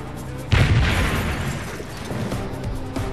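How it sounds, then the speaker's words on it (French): A building explodes from a gas leak at a shopping centre, blowing off the roof: after half a second of low rumble a sudden loud boom hits, then a long roaring wash of debris and crackle that slowly fades. "Une caméra installée dans un camion de pompiers filme l'explosion du bâtiment."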